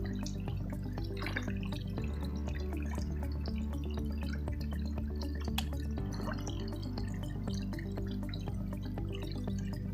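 Water trickles and drips steadily through a cleared channel at a shellfish-gathering spot, a close, continuous flow with scattered droplet splashes and no talking.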